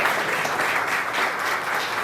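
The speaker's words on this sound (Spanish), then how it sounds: "Por favor, recibamos con un fuerte aplauso al señor Francisco Javier Luna Peña." A crowd breaks into strong, steady applause to welcome a speaker at a community talk on Yanga's history and artistic traditions, a thick continuous wash of clapping at full, even volume.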